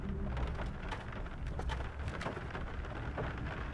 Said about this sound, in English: rain is really loud here.